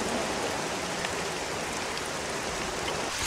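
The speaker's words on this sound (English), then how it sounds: "Why did it have to rain today, of all days?" Steady, dense rain pours down in the medieval battle game The Cursed Crusade, a loud, even hiss of falling water that fills the whole stretch with no talking.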